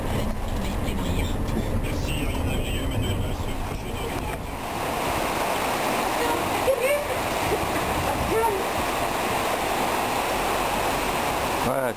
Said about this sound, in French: c'est la rivière des Remparts